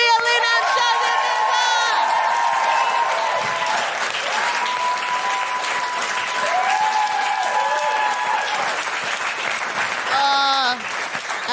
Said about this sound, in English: please, a round of applause for Ria, Lina, and Shazia.